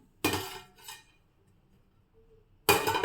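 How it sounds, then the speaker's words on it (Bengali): A lid comes off a cooking pot of jaggery rice pudding with a sharp, close metallic clank and a brief rattle, then a pause and another loud clatter. "ঢাকনাটা খুললাম"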